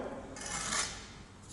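A trowel scraping mortar while a brick is laid, giving one short gritty rasping scrape, close and moderately loud.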